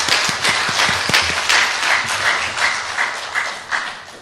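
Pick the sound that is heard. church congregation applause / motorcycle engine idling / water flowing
church congregation applause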